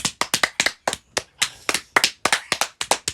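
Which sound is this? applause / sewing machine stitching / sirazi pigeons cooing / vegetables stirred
applause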